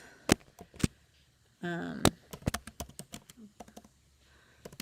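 Keys on a computer keyboard tap out irregular, close clicks in short bursts, with a brief stretch of voiced sound partway through.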